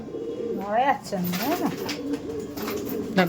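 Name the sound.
pigeons being handled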